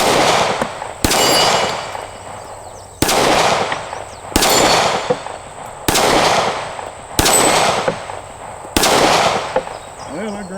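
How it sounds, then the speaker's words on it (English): Sig handgun fired at steel shooting targets: six loud, sharp reports spaced roughly one to two seconds apart, each with a ringing decay, close and dominant. "let's see if I can shoot the Sig any better"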